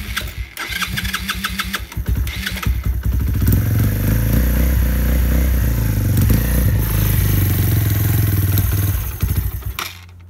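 A 2015 Sinnis Stealth 125 motorcycle engine cranking after a year stored in a shed, with a few stuttering turns before catching and settling into a loud, steady idle up close, then cutting off abruptly at the end.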